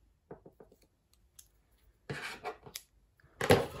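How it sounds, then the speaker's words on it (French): Scissors snipping crochet yarn, several faint light clicks followed by a couple of louder crisp cuts with brief rustling, in a quiet room. "On peut tirer et couper notre fil."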